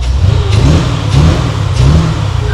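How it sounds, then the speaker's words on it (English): A Corvette engine revs up repeatedly, rising and falling in a loud, throaty roar, close by with a steady rumble underneath. "I think I'm gonna turn on and give it a couple revs"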